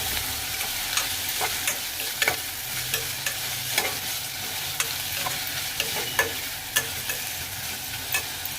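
Steady stirring in a pan of tomato bath with fresh peas, coriander and mint, a continuous soft scraping and sizzling texture with light spoon clicks scattered throughout, fairly close and even, no voices.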